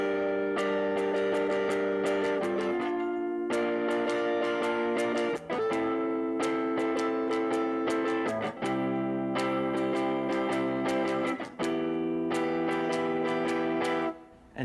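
A guitar plays a chord progression, picked notes ringing in four repeating phrases that shift between chords, loud and clear with no talking.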